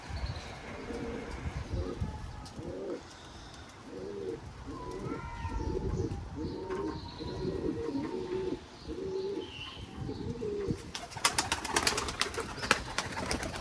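Pigeons coo in a repeated rhythmic series of soft low hoots, fairly close, with faint chirps and outdoor background noise.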